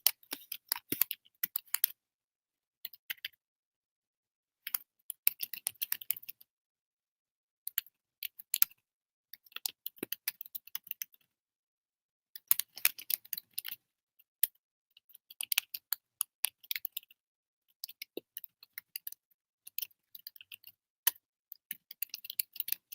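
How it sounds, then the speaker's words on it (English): Typing on a computer keyboard: bursts of rapid key clicks separated by short pauses, close and fairly quiet, with no voices. "I'm just typing away."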